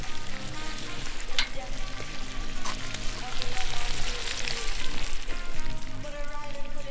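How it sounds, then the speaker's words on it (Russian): Oxtails fry in oil in a kazan over a campfire with a dense, continuous crackling sizzle. Faint occasional clinks come through, and a low background murmur runs underneath. "Чуть-чуть нам надо, буквально корочкой покрыть наши бычьи хвосты"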